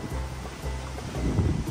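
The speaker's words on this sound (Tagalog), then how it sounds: "Ang lakas ng hangin." Strong wind buffeting an outdoor amenity area at a residential building, a low rumbling roar of gusts against the microphone that swells louder toward the end.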